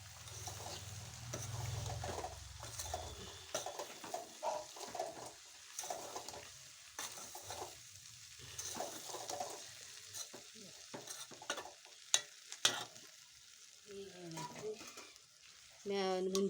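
A spatula stirs cluster bean (chavalikayi) curry in a pan, with repeated scraping strokes over a soft, ongoing sizzle. The strokes come in irregular bursts, fairly quiet and close.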